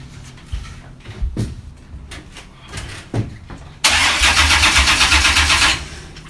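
A truck engine cranks with a few short bursts, then roars to life loudly and idles roughly for a couple of seconds before cutting off.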